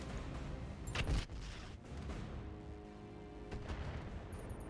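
Mech weapons firing in the video game RogueTech, a couple of sharp bursts and booms, loudest near the start, over a low rumbling background with no talking.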